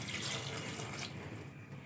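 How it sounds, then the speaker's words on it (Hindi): Water poured from a glass into minced meat cooking for khara masala keema, a steady splashing rush that stays soft and continuous, fading slightly near the end. "अब आप इसके अंदर इतना पानी डाल दें कि ये जो है बहुत अच्छे से इसमें गल जाए।"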